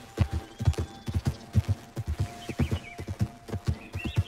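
A horse gallops in Red Dead Redemption 2, with quick rhythmic hoofbeats thudding steadily and close, light tack jingling and occasional brief whinny-like tones layered on top.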